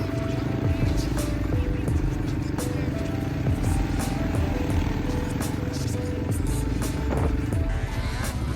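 ATVs run across Oregon coast sand dunes, a steady loud engine rumble with rattling clatter throughout, close and continuous.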